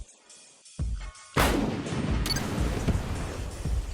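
MSTA 2S33 artillery shell exploding in a Roblox combat game, a sudden loud deep boom followed by a long rumbling roll, with a second sharp crack and continuing low rumble.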